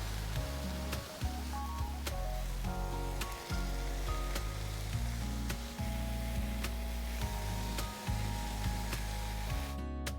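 Beef roulade rolls sizzle steadily on a grill for about ten seconds, a continuous close frying hiss layered over low humming tones, with no talking.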